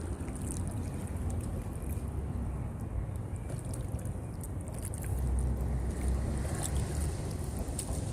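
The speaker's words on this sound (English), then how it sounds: "we're gonna paddle up a little bit, get into this sunlight" Kayak out on Buffalo Bayou, with steady water sloshing and wash around the hull, a constant broad rush mixed with light wind, growing slightly fuller near the end; no voices.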